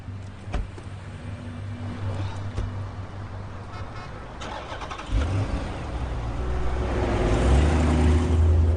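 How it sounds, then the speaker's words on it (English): A car engine cranks and catches, then settles into a steady rising idle that grows louder toward the end, heard close and without talk. "Start the car, get the heat going"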